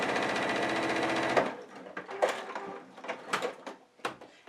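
A sewing machine quilts through fabric and batting layers for a quilted luggage tag, running in a dense steady stitching burst for about a second and a half, then falling into quieter scattered clicks and fabric handling.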